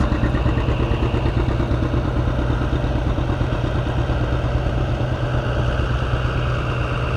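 A tractor engine pulling a two-furrow plow at a plow day, chugging steadily with a rapid, clattering, even beat that stays close and loud throughout, no talking.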